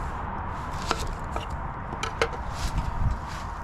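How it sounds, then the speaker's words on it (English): A knife chops an onion on a board for vegetarian hash brown breakfast burritos, giving a few sparse, close, crisp cuts over low kitchen background noise. "Start off by cutting your onion up."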